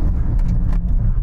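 A BMW X6M braking hard from high speed to a full stop, with a loud, steady low road and tyre roar filling the short stretch, no voices over it.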